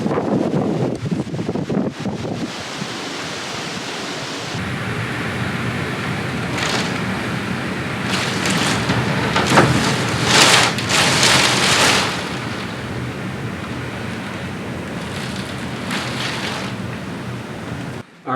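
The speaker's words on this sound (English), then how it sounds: "We're getting gusts of about 35, 40 miles an hour." Hurricane Ian's wind gusts and rain in North Sarasota, Florida, a long roaring rush of wind buffeting the microphone with rain hiss, surging in loud gusts through the middle and settling into a steady blow.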